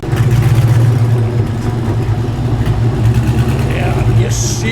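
A 1976 GMH Torana LX SLR 5000 tribute with a V8 fitted with a big cam idles loudly and lumpily nearby, its uneven, rumbling beat running steadily throughout.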